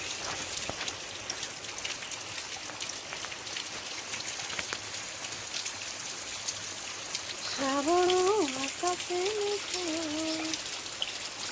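Heavy rain pours down continuously, a dense hiss of drops on surfaces, while a faint bird call rises briefly in the background.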